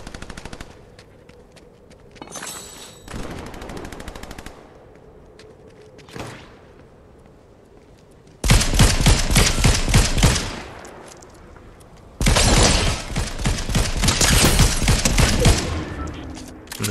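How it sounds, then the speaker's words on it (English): Gunfire in the video game Fortnite: bursts of rapid automatic shots ring out loud and close, with long sustained volleys in the second half after quieter, sparse moments. "because they heard gunshots."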